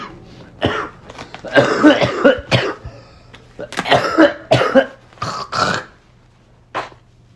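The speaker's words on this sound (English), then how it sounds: "I'm blowing my nose, coughing" A sick person coughs repeatedly up close in several harsh, throaty bursts, with short pauses between the fits and some raspy throat clearing.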